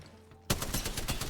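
Spitfire light machine gun in the Apex Legends firing range opening up suddenly after a quiet moment, a loud, steady stream of rapid automatic shots close to the listener.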